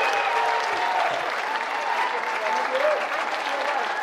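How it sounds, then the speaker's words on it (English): Sustained audience applause fills the space at close range, a steady wash of clapping hands with a crowd murmur mixed in throughout. "Give a warm applause for everyone else coming."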